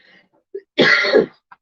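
A short tickly cough and throat clear, close and fairly loud, with a brief sharp catch just before it and a small click after, in an otherwise quiet room.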